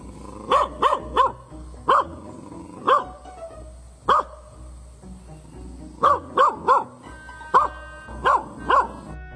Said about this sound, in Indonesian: Anjing itu melihatnya dan menggonggong dengan keras.